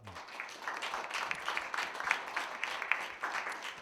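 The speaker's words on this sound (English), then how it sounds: "Let's give a round of applause" A modest audience at a university library book event gives a round of applause, individual claps distinct and uneven, moderately near and continuing steadily without speech.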